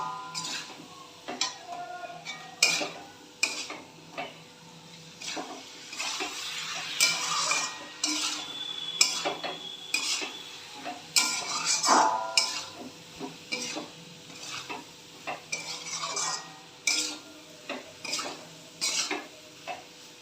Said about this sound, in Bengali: ভালো করে কষে নেবো আগে জল ছিটে দিতে দিতে